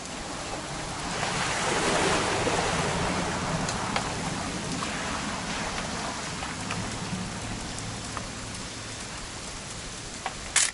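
Steady rain falls throughout in the What Remains of Edith Finch video game, a dense continuous hiss with faint low rumble and a few louder drops near the end, with no talk.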